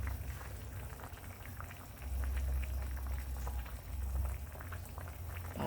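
Fish curry with herbs, galangal and lemongrass boiling hard in a pot: a steady bubbling, popping simmer with soft liquid gurgles, swelling louder midway, heard up close with no talking.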